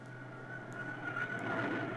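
An F-111 swing-wing jet airplane in flight gives a steady, rising engine roar with a thin whine running through it, loud and continuous for the whole stretch, with no voices.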